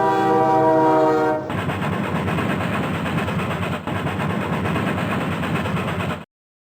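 A train on a railroad in the 1993 SimCity game for PC and DOS, a steady horn blast that gives way to loud, continuous rolling rumble and clatter before cutting off abruptly.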